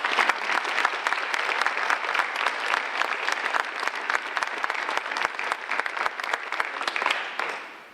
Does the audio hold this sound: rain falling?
no